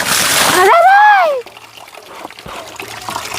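Water splashes loudly as a dog is bathed at a spring, a burst of splashing followed by a sharp vocal cry, then quieter trickling and movement under low background sound.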